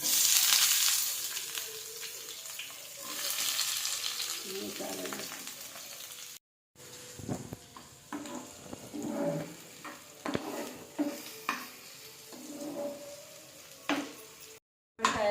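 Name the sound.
onions, green chillies, curry leaves frying and stirred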